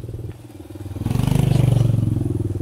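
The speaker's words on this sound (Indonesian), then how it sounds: "Oh, ada motor, ada motor, awas, awas, awas" A motorcycle rattles up close with a loud, pulsing engine that swells to a peak and then eases off as it goes past. Voices come faintly from nearby.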